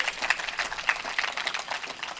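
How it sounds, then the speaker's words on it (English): Crowd applause at a political party public meeting in San Fernando, a short burst of scattered clapping from a modest audience, moderately loud and unaccompanied by speech. "Give him a round of applause, please."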